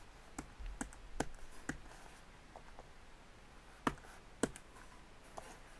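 Faint, sparse clicks of a MacBook Pro keyboard as a password is typed, a few soft taps spaced out irregularly in a quiet room.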